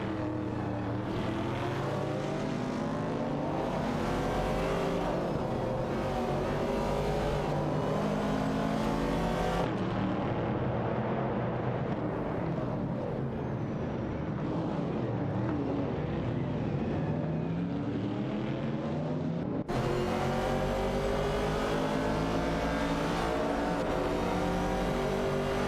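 Pontiac Firebird race cars, a '68 and a '70 model, drone around a racing video game track, their engines a steady layered roar that holds without pause, with abrupt cuts in the sound partway through.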